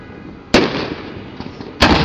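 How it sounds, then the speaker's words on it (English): Fireworks show at Cashman Field exploding in two loud, sharp booms about a second apart, each followed by a crackling, rumbling decay, heard from a distance outdoors. "You're now joining the Lanris fireworks show on May 10th, 2013 at Cashman Field,"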